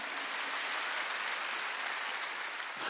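Sustained applause from a church congregation at a Wednesday worship service, steady dense clapping filling the whole stretch at moderate level with no voices over it.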